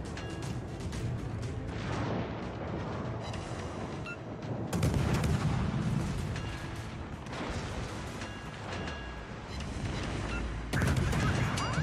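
Naval guns from allied bot ships boom repeatedly in a World of Warships battle, with bursts of heavy gunfire and crashing impacts rolling in waves over a constant game background.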